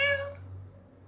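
A single short cat meow, a hungry house cat calling out for food, close and clear at first, then fading into a low steady background hum.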